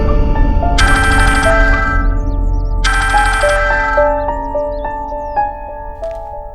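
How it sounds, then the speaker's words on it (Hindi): A phone ringtone plays loud and close in two repeating bursts of bright melodic chimes on an outgoing call, with a soft tonal tail after each and steady background music underneath. "किससे फोन कर रहे हो? अपनी होने वाली बीवी को, रिया को।"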